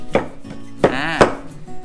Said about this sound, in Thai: สลัดต้นนะครับพอเราปอกเสร็จปุ๊บเราจะมาหั่นท่อนประมาณนี้